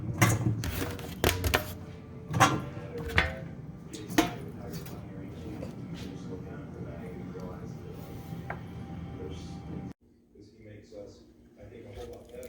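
Knife chopping green pepper, celery and carrot on a board, a few sharp irregular cuts near the start fading into steadier softer chopping, under a speaking voice.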